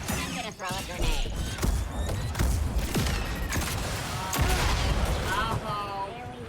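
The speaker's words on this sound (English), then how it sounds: "I'm gonna throw a grenade." A grenade is thrown and bursts in Star Wars Jedi: Survivor amid dense combat noise: heavy thuds and gunfire-like bangs over a continuous loud battle din, with voices talking throughout.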